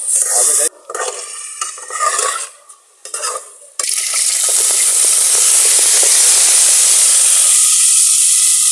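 Chicken spaghetti stir-fried in a pan, loud sizzling with scraping stirs and utensil clatter for the first few seconds, then a continuous steady sizzle and hiss filling the rest.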